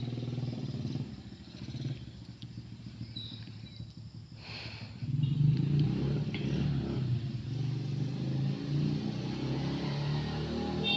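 A small 14-horsepower boat engine drones steadily on rough sea with a rough, rattling putter that grows louder partway through, running continuously without talk.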